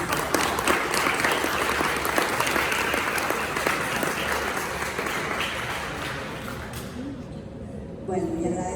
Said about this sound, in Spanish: Les pido un aplauso para recibir.